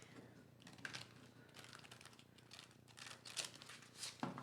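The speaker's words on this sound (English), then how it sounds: "it makes it hard to shuffle when the cards are really big" Large tarot cards are shuffled by hand, a run of soft, irregular papery flicks and riffles, quiet and close, with a louder snap at the end.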